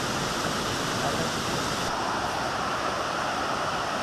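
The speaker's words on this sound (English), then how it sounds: "There's a lot of water in this creek. A lot of cascades. Very pretty. Nice sound." Water cascading steadily down Forney Creek in a forest, a continuous close roar of rushing whitewater with no voices.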